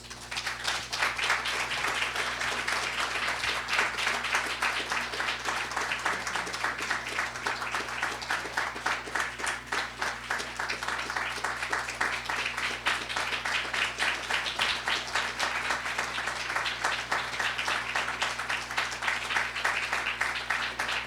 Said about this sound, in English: It's weird standing for someone else's applause.